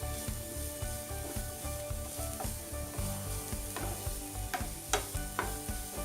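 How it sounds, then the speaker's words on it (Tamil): Grated carrot and onion sauté in a pan for a carrot kuzhi paniyaram batter, a steady sizzle with rhythmic scraping strokes of a spoon and a few sharper clicks against the pan, close and alone. "கேரட்டும் அதே மாதிரி 1 நிமிஷம் அல்லது 2 நிமிஷம் வதங்கினா போதும்"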